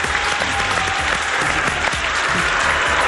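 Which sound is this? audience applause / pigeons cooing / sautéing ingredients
audience applause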